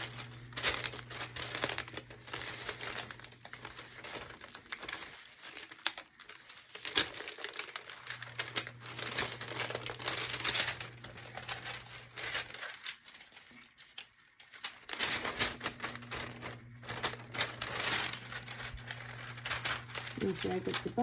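Parchment paper crinkles and rustles in steady handling bursts as it is pressed over a chunky glitter tumbler, fairly close, with brief pauses between passes and low background hum.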